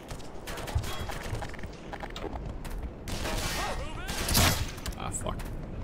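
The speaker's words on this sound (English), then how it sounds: "Who's shooting me?" Gunfire in the shooter game Black Mesa: a series of sharp, cracking shots with a heavier burst toward the end, over a busy background of clattering game noise.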